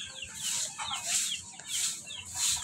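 Thailander breed chickens cluck and squawk close by, several repeated bursts of clucking in a steady rhythm with no talk over them.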